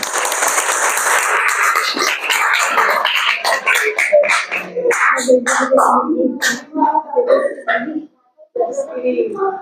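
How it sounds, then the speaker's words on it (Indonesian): Students clap their hands in a classroom during a lesson, a short burst of applause that thins into scattered claps, with children's voices and chatter taking over toward the end. "Tepuk tangan."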